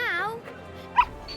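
A puppy in Final Fantasy XVI gives a high whine followed by a few short, soft yips and whimpers, brief and fairly close.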